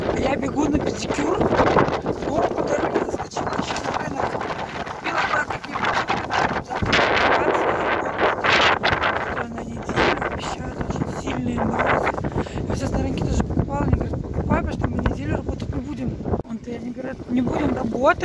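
Wind blows outdoors on a sunny day, buffeting the microphone with a continuous, loud rumbling roar that runs the whole way, rough and gusty, with faint voices buried underneath.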